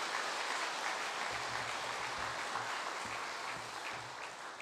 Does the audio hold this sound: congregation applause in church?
yes